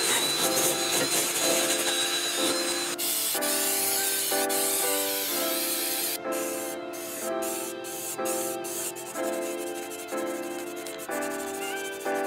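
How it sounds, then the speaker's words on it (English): Spray paint hisses steadily as a second coat goes onto a backing plate during a 1987 Toyota 4Runner restoration, with short bursts and brief pauses over a mechanical, tonal background. "Just hit this backing plate with a second coat of paint."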